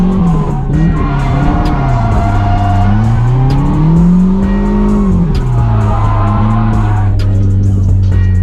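A car drifts with its tires squealing loudly and continuously, the pitch of the screech rising and falling as the slide changes, over a constant engine roar close by.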